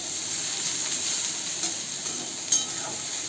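Okra (bhindi) sautés uncovered in a pan with a steady, close hiss and sizzle, a soft clink from stirring near the end, and no talking.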